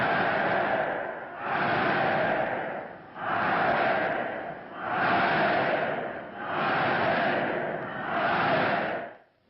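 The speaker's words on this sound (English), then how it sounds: "people were cheering another kind of event" A large crowd roars in repeated swelling waves of cheering, about six surges with brief dips between them. The sound is broad and distant, like an old newsreel recording of a mass public event.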